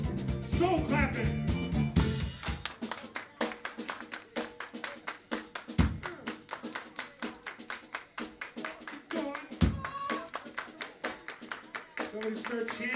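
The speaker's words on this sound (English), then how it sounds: "soul clapping." Rhythmic soul clapping from an audience at a club show at Fishtales On 33rd, sharp repeated claps in a steady beat with music and voices mixed underneath.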